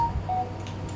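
A mobile phone gives a few faint short electronic beeps, thin tonal blips over quiet room noise with no talk.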